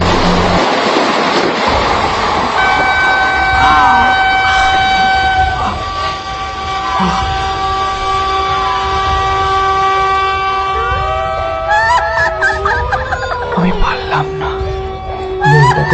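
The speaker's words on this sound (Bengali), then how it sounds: "ট্রেন আসছে সরে যাও সরে যাও লাইন থেকে" A train rumbles past loudly while its horn blares in long sustained tones, with shifting pitched blasts and clattering toward the end.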